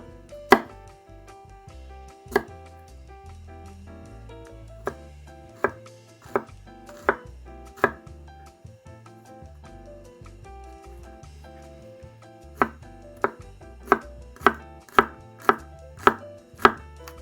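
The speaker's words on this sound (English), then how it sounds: "Finally, let's finely chop the garlic." Garlic being finely chopped with a knife on a cutting board, sharp close knocks spaced irregularly at first, then settling into a quick, even rhythm near the end, with no voices.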